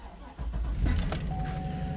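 A car with 181,030 miles on it cranks and fires up, a brief starter churn followed by the engine catching and settling into a steady idle, heard close.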